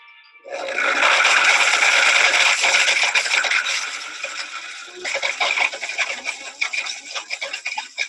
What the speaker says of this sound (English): If I heard one cell phone, we'd blend it.